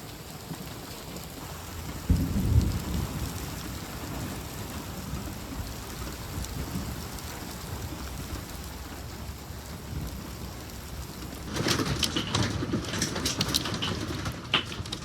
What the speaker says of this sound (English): It sounds like hail.